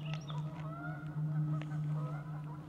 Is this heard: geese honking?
yes